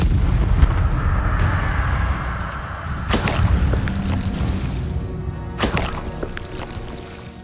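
A Confringo blasting spell fires in the Hogwarts Legacy video game: two sharp explosive bursts a few seconds apart, each a loud crack followed by a booming, decaying rumble over a continuous ambient game backdrop.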